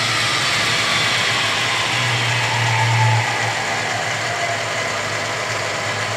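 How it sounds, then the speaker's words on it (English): A Clausing milling machine running steadily at slow speed in direct drive, giving a loud, even motor hum with a low drone that swells briefly, then settles. "The machine is running at a slow speed."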